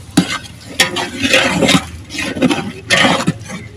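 Sizzling and stirring of tomato and ginger garlic paste frying in a pan, with bursts of scraping and crackle rising and falling over a few seconds, close by and fairly loud.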